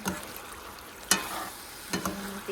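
Saba bananas fry in oil in a pan, a faint, even sizzle broken by two sharp clatters of a utensil against the pan.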